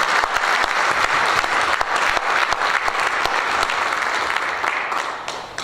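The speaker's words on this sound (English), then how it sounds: "I think they all deserve a round of applause" A room applauds the candidates at a school board Meet the Candidates Night, with steady, dense clapping from a sizable audience that holds strong throughout and eases slightly at the very end.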